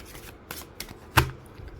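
Moonology oracle cards being shuffled close by, a few soft riffling bursts followed by one sharper snap of the deck, with no talking.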